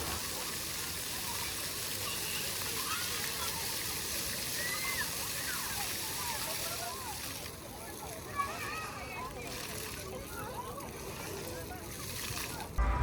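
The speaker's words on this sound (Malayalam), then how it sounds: "വെള്ളം പല കളറിലായിട്ട് ഇങ്ങനെ ഇടയ്ക്കിടയ്ക്ക് ഇങ്ങനെ പൊങ്ങി വരുമ്പോൾ കാണാൻ തന്നെ ഒരു പ്രത്യേകിച്ച് ഭംഗിയാണ്." A colourful water fountain at Global Village splashes and gushes in a steady, fairly loud wash, with voices and crowd chatter mixed underneath throughout.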